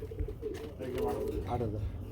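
Pigeons at a pigeon market coo softly and repeatedly in a busy setting, with people talking over the birds.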